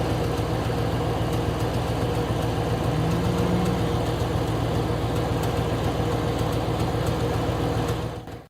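A warmed-up Lincoln Town Car engine fitted with an aluminum truck intake idles steadily at close range, a smooth, even rhythmic thrum that cuts off abruptly at the end.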